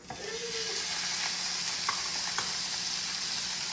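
Pork frying in a little oil in a pan for Filipino pinakbet, a steady close, bright sizzle with crackling hiss that holds throughout, with occasional faint clicks of stirring and no talk.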